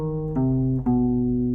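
Descending five-note bebop scale on a sustained, tuner-like tone, three held notes each stepping lower in a smooth, even sequence, close and steady with no talking.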